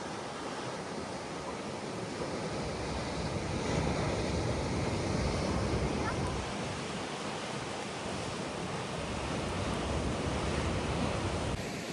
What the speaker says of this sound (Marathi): आवाज ऐका आवाज ऐका लाटांचा